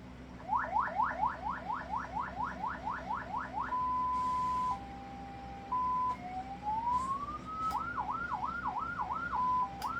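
Aftermarket emergency siren on a Jeep, switched from its power switch panel, cycling loud and close through rapid repeated yelps, a steady held tone, a rising wail and fast warbles, alone without talk.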